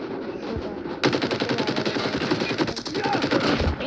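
Rapid automatic gunfire in the mobile shooter Call of Duty Mobile, a dense burst of rattling shots starting after a brief quieter lead-in and continuing steadily, loud and close.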